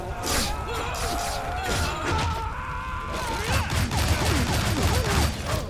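Gunfire in the video game Shank 2, a dense fusillade of shots, crashes and whooshes layered with game effects, continuous and loud with some voices mixed in.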